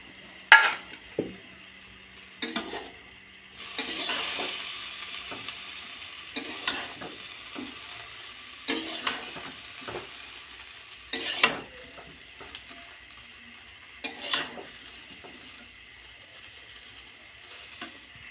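Fried chow mein with potato, egg and onion being stirred in a pan, with repeated scraping strokes of a utensil against the metal over a low steady sizzle and no talking.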